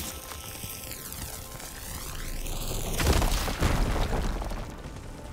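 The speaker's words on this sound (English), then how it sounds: "Should be able to blow up that fire gleam." Firegleam blowing up in the Horizon Forbidden West video game: a sweeping, wavering tone gives way to a loud, deep blast with a rumbling, crackling tail and a second thump just after.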